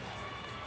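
Arena crowd at a women's basketball bronze medal game between China and Korea, cheering and shouting in a steady, distant roar without a break.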